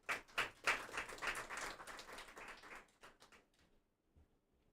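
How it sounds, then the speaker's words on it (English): Audience applause at the inaugural session of a national geospatial technology summit, welcoming the keynote speaker; a few seconds of fairly dense clapping that thins out and fades to near silence. "our keynote speaker, Professor F.M. Nadav, with a round of applause."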